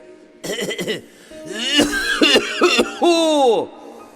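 A voice coughs and hacks repeatedly in harsh, throaty bursts, several in quick succession, loud and close.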